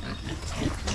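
Pigs on a farm grunt and snort in a short, close, continuous burst, with low rumbling grunts and noisy breathy texture throughout and no speech.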